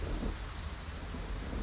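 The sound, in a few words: rain, from video game Scarlet Hollow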